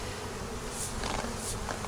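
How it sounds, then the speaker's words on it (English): Hundreds of bees buzzing close by on a farm, a steady dense hum with individual insects droning louder as they pass near. "I've got bees all around me, like hundreds and hundreds of bees."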